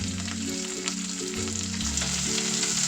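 Onion and green chilli fry in oil with whole spices for brinji rice in a cooker, a steady close sizzle with an underlying tonal hum and no talk.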